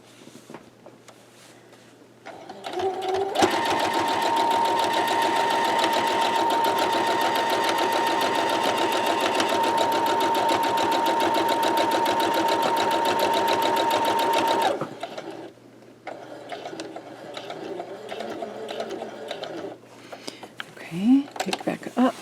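Steady, close rapid stitching from a sewing machine sewing a quilt block seam runs for about twelve seconds, then stops; a voice speaks softly before and after the run.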